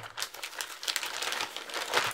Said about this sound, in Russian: пульт упаковывается в пузырчатую пленку для защиты от механических повреждений при транспортировке